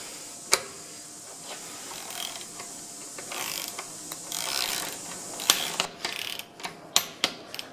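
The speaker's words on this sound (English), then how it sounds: "you can take your torque wrench" A torque wrench ratchets a bolt toward 14 newton meters during a Multifit installation, with sharp, close clicks that are scattered at first, then quicken near the end over quiet background rustling.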